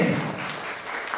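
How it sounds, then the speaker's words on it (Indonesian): Crowd of students from SMK 1 Durenan clapping at a school lecture, a brief, dense burst of applause that stays steady and fairly loud throughout. "tepuk tangan untuk anak-anak SMK 1 Durenan ya"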